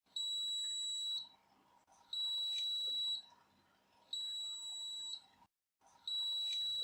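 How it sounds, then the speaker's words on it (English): A high electronic beep from a dog fertility test device sounds in long steady tones, four times with short pauses between, clear and close. "Shake until last beep."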